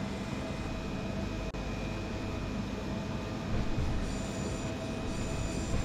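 An S-Bahn commuter train runs through Warsaw in the Simrail train simulator, a steady loud rumble of wheels and motors with a brief dropout partway through and rising rail noise toward the end, with no speech.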